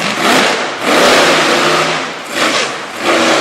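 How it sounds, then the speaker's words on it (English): A monster truck engine revs hard at a competition, with loud, broad roaring surges that rise and fall in waves and swell again toward the end. "RPM seem like they're coming up, and the truck just isn't moving as quickly as he'd like it to"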